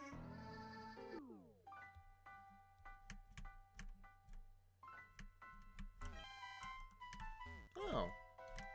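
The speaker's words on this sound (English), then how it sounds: "That's a lot of sheep." Synthesized sheep bleats from a Mareep in Pokemon Infinite Fusion, repeated chiptune-like cries over steady game music and ticking tones, fairly faint throughout.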